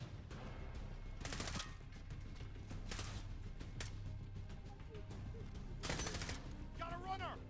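Rapid bursts of machine gun fire in Call of Duty: Modern Warfare combat, sharp broadband volleys around the one-, three- and six-second marks over a constant low battle rumble, with voices calling out between shots.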